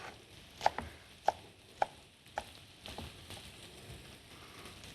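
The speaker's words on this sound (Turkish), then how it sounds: "Ispamaklarımı dilerseniz şöyle ortadan kesip de yapabilirsiniz" A knife cutting fresh spinach on a board, a few sharp, evenly spaced chops close by that thin out to softer cuts, in a quiet room with no one talking.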